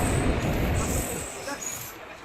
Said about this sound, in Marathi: ट्रेन आली आता.